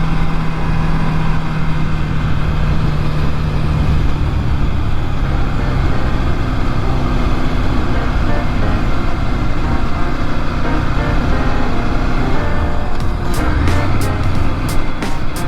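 A 2018 Ducati Scrambler Icon 803cc motorcycle hums steadily while riding, a constant loud engine drone mixed with wind rush, and a few sharp ticks near the end.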